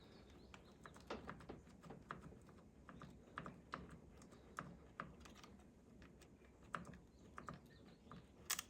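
Sharp mechanical clicks from a hybrid Honda's cooling fan relay repeat at irregular intervals, some louder than others, over a low background hum.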